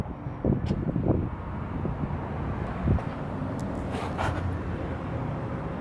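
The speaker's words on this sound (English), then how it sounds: "It's very windy today" Strong wind blowing outdoors in a driveway during rear strut work on a Dodge Caliber, a steady loud broadband rush with gusty buffeting on the microphone throughout, a few faint clanks and brief voice sounds in the background.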